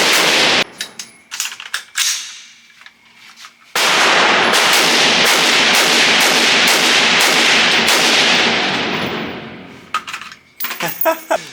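Gun fired at an outdoor shooting range in the USA: sharp single shots, then a long rapid burst of about six seconds, more shots after, loud and close with some shouting around.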